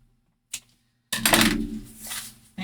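Scissors snip through curly ribbon during a journal craft project, a short click and then a longer crisp cutting rasp, close and alone.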